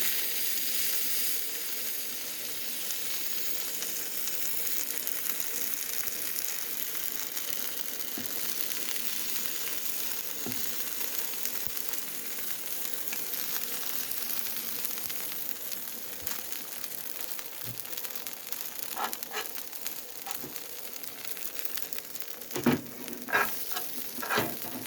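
Crumbled sausages fry in a pan with a steady, close sizzle and hiss throughout. Occasional louder pops and crackles of spattering fat rise toward the end, and nobody talks.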